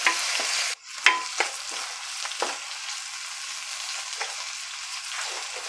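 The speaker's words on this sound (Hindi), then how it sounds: "अब मिक्स कर देंगे, ऑनियन को ऐसे ही फ्राई करेंगे ट्रांसलूसेंट होने तक" Chopped onion frying in hot oil for samosa filling, a dense sizzle broken by several quick spatula scrapes and knocks early on, then a steadier, softer hiss, with no voices.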